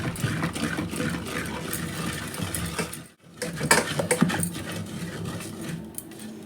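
Cooked ridge gourd and tomato being mashed in a pot for Tamil kadaiyal give steady scraping and squishing strokes, close and moderately loud, with a brief pause midway.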